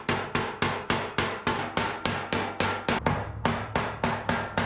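Dented aluminum sheet metal from a moving-truck box is hammered straight with a fast, steady run of about eighteen sharp, ringing metallic blows, loud and close, with no talk.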